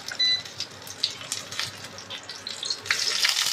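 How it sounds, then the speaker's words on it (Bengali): Shrimp fritters wrapped in Malabar spinach leaves fry in hot oil, giving a close, crackling sizzle with uneven pops that swell louder toward the end, heard alone without talking. "তেলে ছেড়ে দিলাম। দেখুন এখন ভাজাটা হবে"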